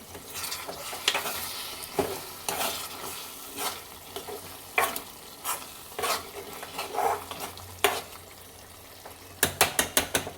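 Tomato curry being stirred in a pan on the stove, with a spoon scraping and clacking against the metal in irregular strokes over a steady sizzle, ending in a quick run of rapid scrapes.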